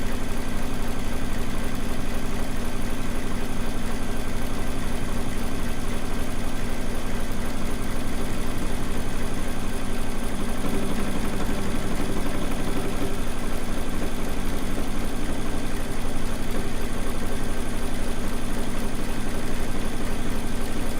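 A sewing machine stitches a steady one-inch seam along the edges of a rag quilt, producing a continuous, even mechanical whir that runs unbroken for about twenty seconds with no voices.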